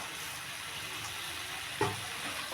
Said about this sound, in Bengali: পুঁই শাকটা দিয়ে খুব ভালোভাবে নাড়াচাড়া করে